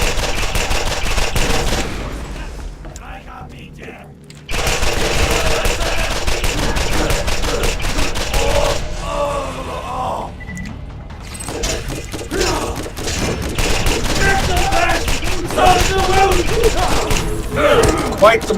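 Gunfire rattles in the Borderlands video game in dense, rapid bursts of shots, loud and close, with brief lulls between volleys before the shooting resumes.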